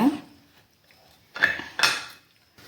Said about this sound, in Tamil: இதை அப்படியே மூடி போட்டு மூடிடலாங்க